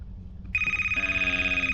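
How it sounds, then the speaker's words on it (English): A telephone rings in a video game: after a brief quiet lead-in, a bright electronic trill starts abruptly and holds loud and close, pulsing rapidly until the end. "You hear that phone? You need to get the phone."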